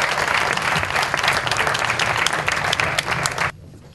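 Audience at an evening ceremony breaking into loud, dense applause that holds steady for several seconds, then cuts off abruptly into near quiet.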